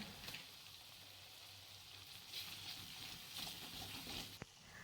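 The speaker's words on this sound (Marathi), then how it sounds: "तो मसाला आपल्याला यामध्ये ॲड करायचा आहे आणि व्यवस्थित असा फ्राय करायचा आहे" Ground masala frying with soybeans in a pan gives a soft, steady sizzle with faint crackles and the odd sharp click, quiet throughout.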